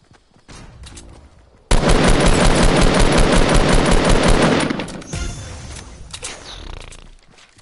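Sustained automatic fire from a machine gun in a video game, a loud close rapid rattle of evenly spaced shots lasting about three seconds, preceded and followed by quieter game sounds and scattered single shots.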